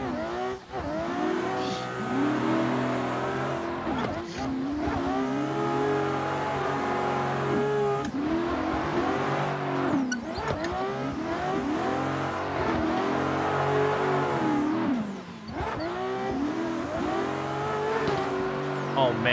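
BMW M4 G82 engine in a racing sim, steady loud revving through repeated gear changes, with pitch climbing and dropping in cycles roughly every few seconds, with a voice talking over it.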